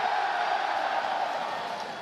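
Convention crowd in a large hall at the Blizzcon 2017 opening ceremony cheering together, a dense steady roar of many voices sustained for a couple of seconds.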